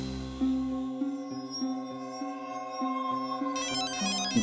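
A phone ringtone plays during a call in a Hindi TV drama, a repeating electronic melody of short tonal notes, fairly quiet and alone, with a brighter burst near the end.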